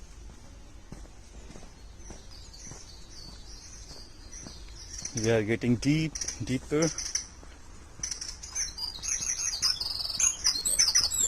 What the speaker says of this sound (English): You can hear the bird chirping.